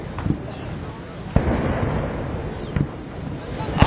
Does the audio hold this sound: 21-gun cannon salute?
yes